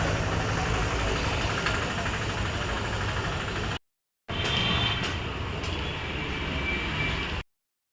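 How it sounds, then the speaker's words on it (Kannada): A vehicle engine idles while being parked, giving a steady mid-low rumble with faint higher hiss. It holds for about four seconds, cuts out briefly, then resumes before stopping again near the end. "ಲಕ್ಷ್ಮಣಲ್ಲೇ ಗಾಡಿ ಪಾರ್ಕ್ ಮಾಡ್ತಾ ಇದ್ದಾರೆ"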